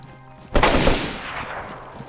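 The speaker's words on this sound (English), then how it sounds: "Open fire!" Gunfire from the video game DayZ in close-quarters combat: a sharp, loud burst of shots near the listener, trailing off into a fading echo.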